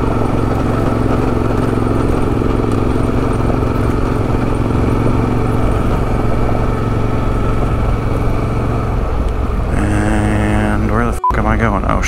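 A motorcycle runs in third gear on a backcountry dirt route, its engine droning steadily and close throughout with a rider speaking over it, then the engine note shifts near the end.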